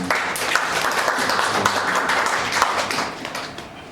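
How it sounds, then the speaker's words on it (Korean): A church congregation claps in thanks during a Sunday worship service, a steady full round of applause filling the room for several seconds before tapering off slightly at the end. "오늘 이 시간 허락하신 하나님께 우리 함께 감사의 박수 올려드리도록 하겠습니다"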